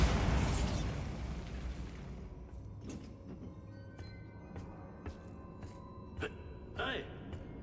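A Bombarda explosion spell bursts loudly in Hogwarts Legacy, a booming blast that fades over about two seconds into a quiet scene with scattered small clicks and pops.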